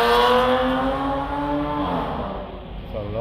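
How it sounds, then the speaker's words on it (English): A loud car engine roars close by on a Jamaican road, its pitch sliding downward as it passes, then revving again near the end. "It's a loud car."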